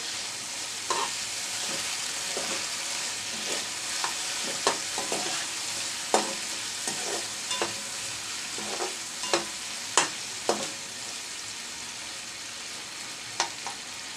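Bitter gourd frying in hot oil, a steady soft sizzle throughout with intermittent stirring clicks and scrapes from a utensil in the pan, close by, with no talking.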